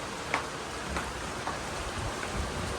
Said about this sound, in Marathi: पावसाने जोर घेतले ना